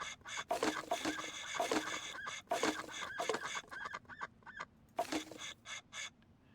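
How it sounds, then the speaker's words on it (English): Geese honk in the Starfield video game, a string of loud, close, cackling calls in uneven bursts with short gaps between them. "As long as you want a whole bunch of useless geese."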